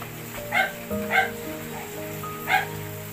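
A dog barks three times in short yappy bursts, two close together and one after a pause, near and clear over a constant low hum.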